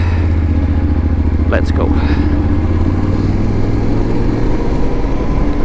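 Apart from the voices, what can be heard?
motorcycle riding in third gear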